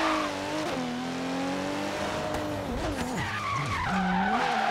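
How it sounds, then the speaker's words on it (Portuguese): An Omega 4.1 turbo in Forza Horizon 3 drifts with long tire squeals and skidding over a revving engine whose pitch swoops up and down. "Mas eu gosto de fazer drift assim nele aqui, ó."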